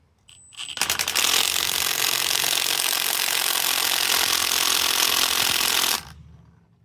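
A high-output impact wrench with a 22mm deep socket hammers on a rusted rear shock nut of a Land Cruiser 100, a loud, steady rattling burst lasting about five seconds after a brief start, then stopping abruptly.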